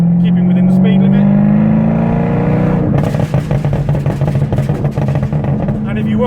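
A Jaguar F-Type with a straight-through exhaust and a burble map accelerates in third gear: a loud, close engine drone rises in pitch, then breaks into rapid crackling, popping burble.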